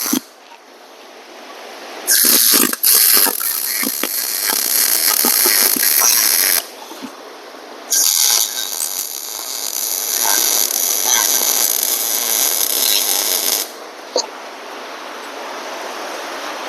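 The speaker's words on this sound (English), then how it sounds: "while I'm welding these hooks on" Welding hooks onto a weedeater rack gives two long bursts of harsh, steady crackling hiss, close and loud, with brief sputters and a pause between them.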